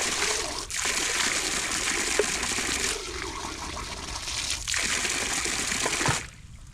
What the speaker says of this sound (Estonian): Vaata, siin on see päris hea joogivesi.